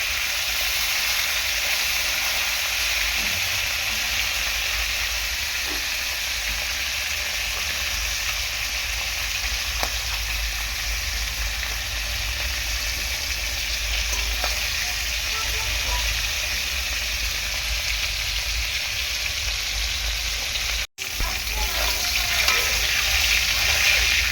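Tilapia fish frying in hot oil gives a steady, loud sizzle and crackle that runs unbroken throughout, with one brief dropout near the end.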